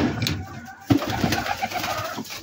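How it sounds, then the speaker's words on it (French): Pigeons in a breeding loft give a few soft, low coos amid light rustling and ambient noise, brief and fairly close. "on va aller voir maintenant les pigeons"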